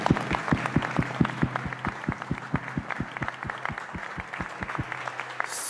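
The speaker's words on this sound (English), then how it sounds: "I'd like you to make a special round of applause for Julia Berghofer." Steady rhythmic clapping from an event audience thanking the organizer, a dense run of evenly spaced claps at moderate loudness that carries on for several seconds before fading at the end.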